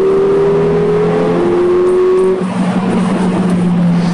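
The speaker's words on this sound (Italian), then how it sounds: "Il rombo del motore è sintomatico di una forte accelerazione" Mercedes car engine roaring hard under strong acceleration on a ring-road bridge, a loud sustained growl with a steady tone that shifts up partway through, close and alone with no voices.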